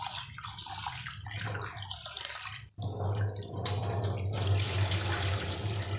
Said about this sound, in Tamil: உளுந்தையும் நல்லா கழுவிட்டே ஊற வைக்கணும்